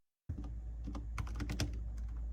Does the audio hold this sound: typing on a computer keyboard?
yes